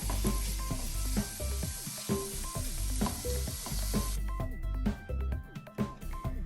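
Sliced mushrooms sizzle steadily in a pan as they cook for a mushroom cutlet. Repeated scraping and clicking strokes of the stirring spoon sound close, with no talking.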